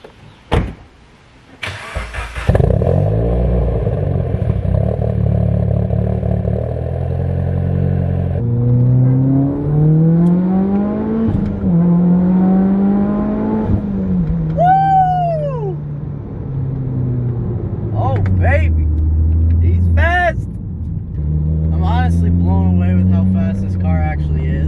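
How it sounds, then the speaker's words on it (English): A 400 WHP Mitsubishi Evo X cold-starts close by. A sharp crank catches into a loud, steady idle that rises and falls with a few revs, and a person's voice is heard over the engine. "Get a little cold start for the boys."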